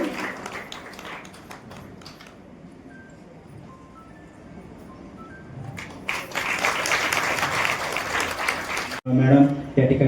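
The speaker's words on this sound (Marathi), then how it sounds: "सर्वांनी जोरदार टाळ्यांचा गजर करायचा आहे" Audience claps loudly and steadily at a Haldi-Kumkum ceremony held by a community organisation, the dense applause swelling in after a stretch of speech and low murmur and continuing to the end.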